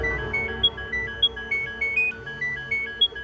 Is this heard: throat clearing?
no